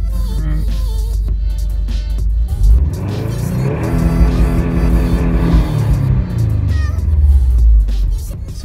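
A 2017 Subaru WRX STI launches on launch control set to 5,000 RPM, its engine loud and close, holding high revs and then surging and rising through the gear.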